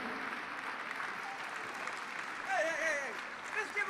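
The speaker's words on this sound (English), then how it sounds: "Let's give him a round of applause" At a charity gala for an NF cure, an audience claps in a quiet, distant wash of applause, with a voice speaking over it in the second half.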